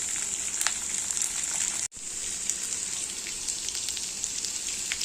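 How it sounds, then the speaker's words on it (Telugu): Peanuts and green chilies frying in hot oil for peanut chutney, a steady close crackling sizzle with scattered pops, broken by a brief drop in sound partway through. "ఆ నూనెలోనే పల్లీలు పచ్చిమిరపకాయలు వేసి కలుపుకోవాలి."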